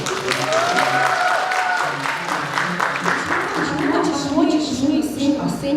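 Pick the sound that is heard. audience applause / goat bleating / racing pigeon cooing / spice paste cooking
audience applause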